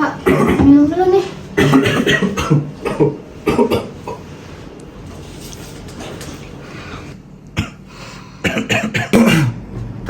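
An older man, a father, coughs hard in a home setting. Loud, raspy bursts come in clusters at the start and again near the end, with voices talking in between.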